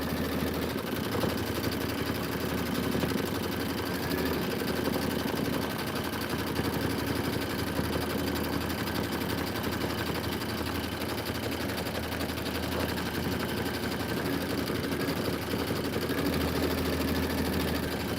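A sewing machine runs at a steady pace, giving a dense, continuous mechanical whir at fairly close range. It stays unbroken throughout with no talk.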